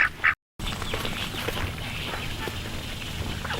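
Domestic ducks, a mix of runner and Rouen breeds, give a couple of quick loud quacks up close, followed by a short break and then steady outdoor background noise.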